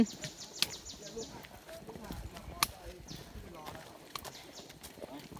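Pack cattle walk a mountain trail on Doi Luang Tak, their hooves giving irregular clip-clop knocks at moderate distance, with people talking over them.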